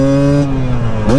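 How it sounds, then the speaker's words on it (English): A midsize quad ATV engine revs hard and close with no talk, holding a steady high pitch that gradually drops off, then rising sharply again in a fresh blip near the end. "Man, it's fun to rev these things."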